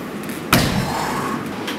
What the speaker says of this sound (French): une porte de frigo.